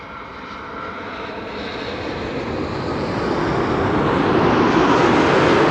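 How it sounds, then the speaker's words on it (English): A KLM airliner arriving from New York JFK comes in to land at Amsterdam Schiphol, its jet engines a broad, steady roar that swells gradually louder as it nears, with no talk. "This is KLM flight 644,"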